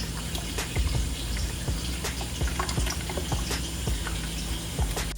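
Water splashes and trickles during an aquarium water change, a continuous liquid pouring and bubbling sound with scattered drips and small plastic knocks, moderately close and alone without talk.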